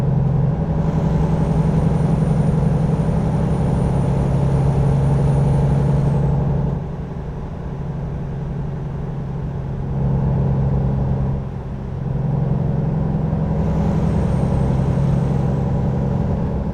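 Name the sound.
truck air brakes in American Truck Simulator video game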